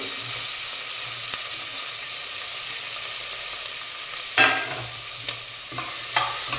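Two thick onions fry in hot oil in a pan for tomato bath, a close, steady hissing sizzle with a few louder bursts as they are stirred.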